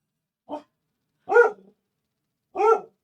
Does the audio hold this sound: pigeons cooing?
no